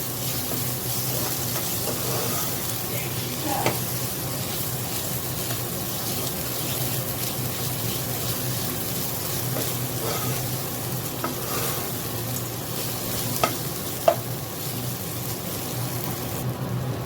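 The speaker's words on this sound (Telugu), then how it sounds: "ఇలా బాగా ఫ్రై చేసుకున్న తర్వాత కొద్దిగా ఆయిల్ అంతా బయట వస్తుంది." Ginger garlic paste frying in oil with pieces of goat tripe for an Andhra-style fry, a loud continuous close sizzle with scattered clinks and scrapes from stirring throughout.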